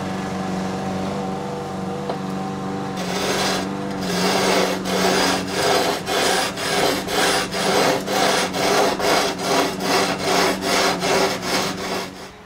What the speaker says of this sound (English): now we're going to sand using the marker to visualize how it's going.